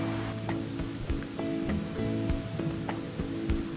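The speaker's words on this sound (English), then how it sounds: "Now we're on the other side of the waterfalls." A waterfall on the North Country National Scenic Trail in Wisconsin gives a steady, broad rush of falling water, with faint clicks and a low hum running through it.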